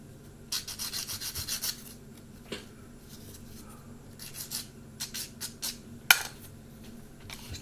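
Abrasive rubbing as the edges of plastic B-25 Mitchell model kit parts are flattened, bursts of short rasping strokes in rhythmic runs near the microphone, with quieter handling noises between.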